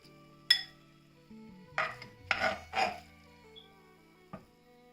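Stir-fried Shin Ramyun noodles plated into a bowl: quiet kitchen with a sharp clink, a few short scraping and rustling bursts of utensil against pan, then a final light tap.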